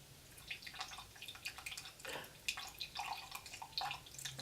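Vanilla extract being poured into a container of layered liquids for a kitchen density experiment, heard as faint, close, irregular dripping and trickling splashes spread across a few seconds, with no talk.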